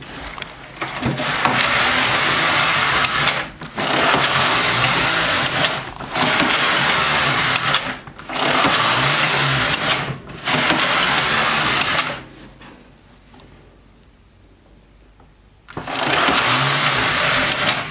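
A Singer knitting machine carriage running across the bed while knitting black yarn, loud close mechanical whirring in five long passes separated by short pauses and one quieter gap before the last pass.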